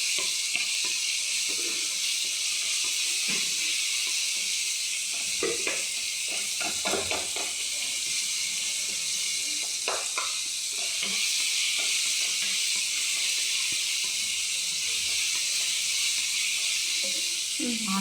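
Tomatoes and garlic soften in a hot pan, giving a steady close sizzle with occasional stirring scrapes and clatters over the continuous frying hiss.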